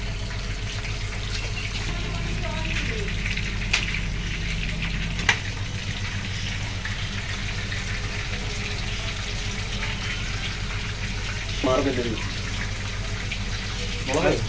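Chilies and tomatoes sautéing in a pan for a street-style tilapia fish fry, a steady low sizzle running throughout, with a few clinks and stirring scrapes as a voice talks over it.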